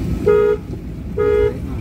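Two short car horn toots from a car during a driving lesson, close and loud, spaced about a second apart over a low engine hum.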